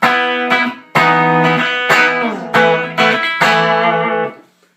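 An electric guitar on the bridge pickup plays loud, overdriven chords through a small tube combo amp at half volume, several strums ringing out in an uneven rhythm, with no voices.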